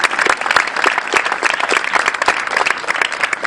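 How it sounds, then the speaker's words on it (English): At Cal Poly Pomona's Walk A Mile In Her Shoes event in 2014, an audience breaks into lively applause for the women, with dense, uneven clapping that holds strong throughout. "An applause for the women, please"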